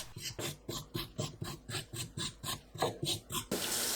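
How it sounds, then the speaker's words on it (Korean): A knife scrapes the skin off a burdock root in a steady series of about a dozen short rasping strokes at a quick, even rhythm, close and fairly quiet, followed by a brief burst of hiss at the end. "칼로 긁어 껍질을 벗겨내세요."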